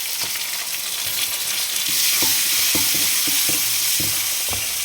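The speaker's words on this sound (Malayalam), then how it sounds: "ഇവിടെ നമ്മുടെ കടുക് പൊട്ടിക്കൊണ്ടിരിക്കുകയാണ്" Mustard seeds spluttering and crackling in hot oil for jackfruit erissery, a loud continuous sizzle broken by sharp irregular pops and taps from stirring, close up with no talking.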